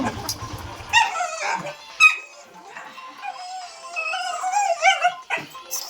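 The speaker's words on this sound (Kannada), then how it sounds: "ಮಗುವನ್ನು ಕೊಂಡೋಗ್ತಾರಂತ ನಾಯಿ ನೋಡಿ." A dog whimpers, yips and breaks into long wavering howls at close range, the cries rising and falling in several bursts with short gaps.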